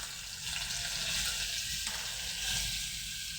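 Butter melting in hot oil in a pan sizzles and crackles steadily at close range, with no voices over the frying.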